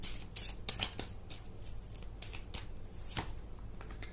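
Tarot cards are shuffled and handled at a table: a steady, faint papery riffle with quick flicks and soft snaps as cards are drawn, close but quiet, without talking.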